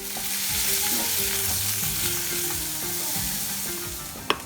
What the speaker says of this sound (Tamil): அப்புறம் நறுக்கி வச்சுருக்க பெரிய வெங்காயத்தை முழுசாக கலந்துக்கிறேன்